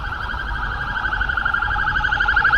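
A police car siren wails steadily throughout, loud and fairly close, with a rising-and-falling warble over low traffic rumble, in Canada.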